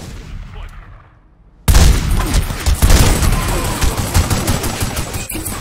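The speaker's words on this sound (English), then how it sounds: "Quase morri ali pro tiro de shotgun" Shotgun gunfire in The Godfather video game, a quiet lull broken abruptly by a loud burst of rapid overlapping shots and booming blasts that continues densely to the end.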